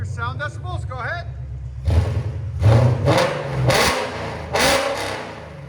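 A 2021 Ford Mustang GT's 5.0L V8 with a Valvetronic Designs exhaust idles with a rumble, then barks through four loud, close rev blips that fall back each time, with people talking briefly at the beginning.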